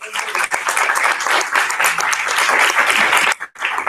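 Sustained audience applause fills a civil society meeting hall, dense and steady, then cuts out briefly before resuming near the end.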